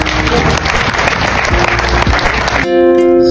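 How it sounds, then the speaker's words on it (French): Audience applause at a women's awards ceremony, loud and dense with many hands clapping, running steadily before cutting to a music-like sustained tone near the end. "Vous applaudissez"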